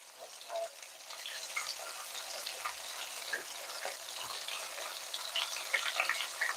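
Chicken nuggets for a zero-carb fried chicken frying in a pan give off a soft, steady sizzle with scattered light crackles and pops, fairly quiet and with no voices.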